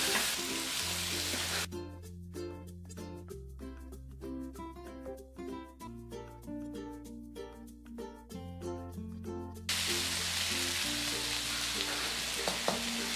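Onions sizzle in a pan with ginger garlic paste, green chili and curry leaves, a soft steady frying hiss, while rhythmic tapping and clinking of a spoon stirring runs through the middle stretch, with no voices.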